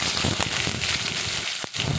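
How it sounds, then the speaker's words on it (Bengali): A steady, dense sizzle of chopped onion frying in hot oil with nigella seeds, close and continuous, with a brief dip near the end. "কালো জিরের পরে দিয়ে দেবো পেঁয়াজ কুচি।"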